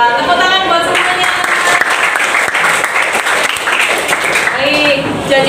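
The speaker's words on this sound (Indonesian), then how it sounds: "Tepuk tangan buat semuanya." A class applauding, dense and loud continuous clapping from many hands indoors that sustains at an even level across the whole stretch.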